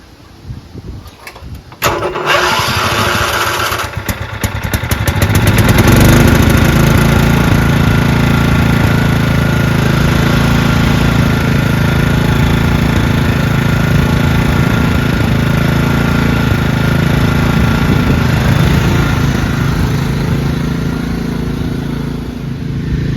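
A Craftsman II lawn tractor with a 14HP Kohler engine cranks over a few times, fires, and settles into a loud, steady, close running drone that holds to the end.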